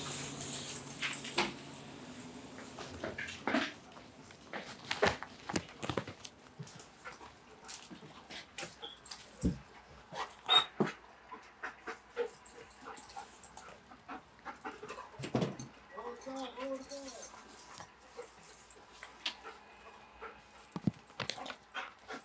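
A police K-9 dog pants and whimpers in bursts, with irregular rustles, thumps and movement noises scattered across a long stretch, close by and without talk.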